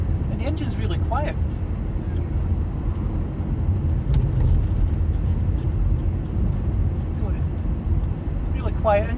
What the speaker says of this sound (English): And the engine's really quiet.